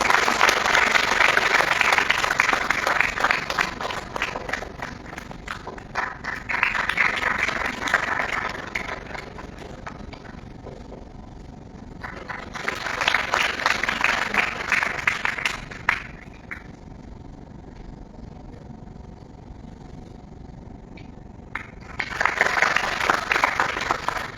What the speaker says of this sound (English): I request you all to give him a huge round of applause